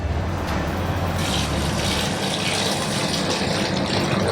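Broth poured steadily into a pot of pork sinigang, a continuous close rushing splash of liquid that holds steady for several seconds.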